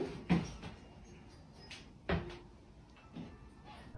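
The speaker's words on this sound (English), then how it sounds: "3 distinct knocks echoed, chillingly deliberate." Knocks in a boy's room at night: three separated dull thuds with a slight echo, spaced about a second or more apart in a quiet interior.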